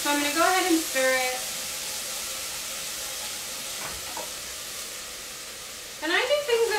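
Food in a hot pan for red lentil soup sizzles steadily while being stirred, a continuous frying hiss with occasional scraping, and a voice speaks at the start and end.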